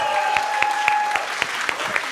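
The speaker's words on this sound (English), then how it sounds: "let's give him a round of applause" A small audience at a Depeche Mode special event gives Daniel Miller a round of applause: sparse, distinct claps at a steady rhythm over a faint steady tone and room murmur.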